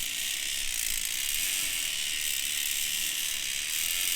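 Steady, rapid ratcheting clicks from a 2024 Trek Roscoe 9 mountain bike's freehub, a continuous buzzing tick close by that holds evenly for several seconds with no voices.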